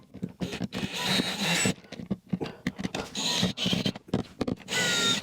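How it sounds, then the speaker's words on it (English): A power drill whirs in several short bursts, starting and stopping with brief pauses between, close and fairly loud. "I'm just going to start this off with a drill."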